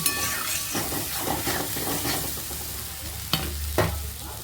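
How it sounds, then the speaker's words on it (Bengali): Hot water poured into frying spices in a pan for chhanar bora curry, a sizzling hiss with stirring scrapes and a couple of sharp bursts near the end, close and steady with no talk. "এখন দিয়ে দিব গরম জল।"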